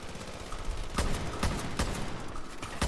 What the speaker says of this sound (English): I'm just shooting at will here.